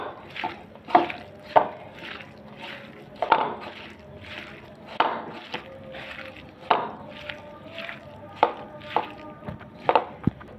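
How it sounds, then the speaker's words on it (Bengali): Onion greens are mashed and mixed with mustard oil by hand for a Bengali bhorta, producing a series of soft, moist slaps and squishes in an uneven rhythm, close and clear with faint clatter between. "দিয়ে ভালো করে মাখিয়ে নিব।"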